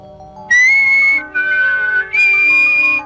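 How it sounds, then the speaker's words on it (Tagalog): Someone whistles three sustained, clear notes in a row, the middle one lower, loud and close, alone without talk after a brief quiet start. "Oh, ganito ang sipol."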